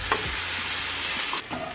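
Food sizzles and fries steadily in a hot pan, browning, with a brief stirring scrape partway through, close and moderately loud.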